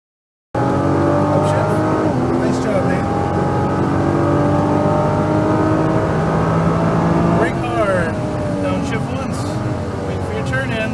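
A Nissan GT-R on a race track holds a loud, steady engine roar as it accelerates, and the pitch jumps with a gear change near the end. An instructor's voice speaks over the engine noise.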